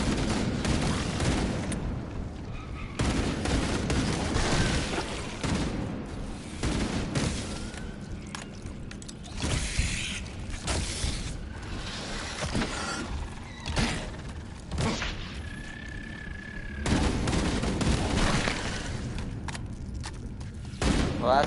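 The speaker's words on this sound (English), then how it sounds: "This is a normal plasma." Plasma weapon fire in Halo Campaign Evolved on PS5, bursts of sci-fi energy shots and mechanical clatter repeating through a busy stretch of game combat, moderately loud with brief tonal whines.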